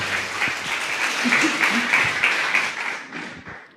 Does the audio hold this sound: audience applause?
yes